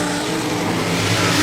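A race car engine roars loudly and continuously in a short burst during a race, the fifth car running with flames under it and a failing exhaust, the note steady and close with no voices over it.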